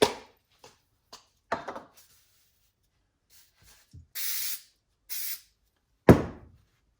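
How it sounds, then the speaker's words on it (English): Short hissing bursts from a can of spray adhesive used on paper cutouts for a model police box, two steady sprays of about half a second each amid scattered handling clicks and taps. "I've got some spray adhesive here."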